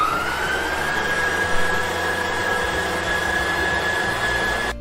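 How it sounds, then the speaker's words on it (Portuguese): A kitchen stand mixer beats simple cake batter while egg yolks go in, giving a steady loud motor whine with a high tone over a broad churning whir that runs unbroken with no talking. "Então aqui a gente liga a batedeira e eu vou começar a colocar essas gemas."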